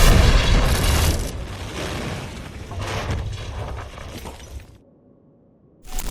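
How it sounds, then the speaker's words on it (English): A bomb detonation sound effect: a loud booming blast with shattering, breaking debris that rumbles on and slowly fades over several seconds, then briefly cuts to silence before another burst. "and then the bomb detonates."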